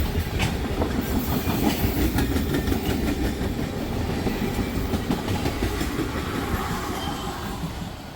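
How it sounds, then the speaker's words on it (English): A rubbish freight train passes at Jakeway Road in Olmsted Falls, a loud continuous rumble with rhythmic clickety-clack of wheels over rail joints, filling the whole stretch without a break. "There goes our first stinky rubbish train of the video"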